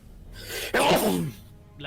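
A single sharp sneeze from a spacefaring character in Star Trek Online, a quick inhaled lead-in bursting into a loud, breathy expulsion that trails off, heard close and alone with faint ambient hum around it.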